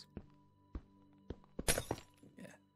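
Glass block shattering in Minecraft Bedrock Edition, a sharp breaking burst in the middle after several soft thunky block placements, fairly close and moderately loud.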